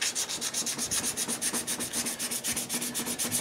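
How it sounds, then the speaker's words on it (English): Steady back-and-forth sanding of an antler knife handle, a rhythmic abrasive rasp repeating about five strokes per second, close and loud with no talk. "I'm not even going to tell y'all how much time I just spent sanding on this thing."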